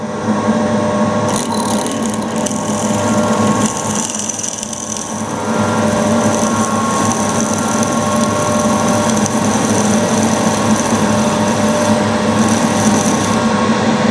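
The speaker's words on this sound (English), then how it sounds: "It's an 8mm stud, so we'll go with a 4mm drill." A 4mm drill bit whirs continuously into an 8mm metal stud close by, a steady high grinding whine that holds for a long stretch.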